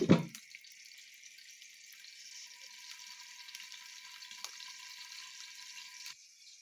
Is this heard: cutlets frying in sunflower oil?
yes